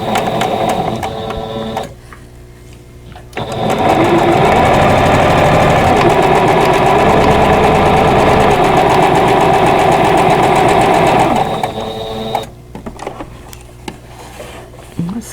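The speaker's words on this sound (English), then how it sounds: "now I'm going to stitch a 1/4 inch away from this drawn line on both sides" A sewing machine runs steadily for several seconds, stitching quarter-inch seams on pieced quilt block fabric for a vintage tulip pattern, with short quieter pauses before and after the continuous motor hum.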